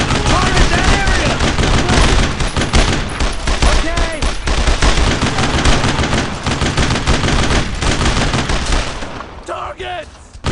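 Sustained gunfire in the World War II shooter Brothers in Arms: Road to Hill 30, dense rattling machine-gun and rifle bursts at loud, constant level, with shouted voices mixed in throughout.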